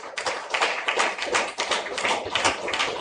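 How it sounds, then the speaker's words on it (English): An audience applauding at a mobility and intelligent transportation summit showcase: dense, continuous clapping from many hands, steady and fairly close for a few seconds. "let's have a big round of applause for everyone present here"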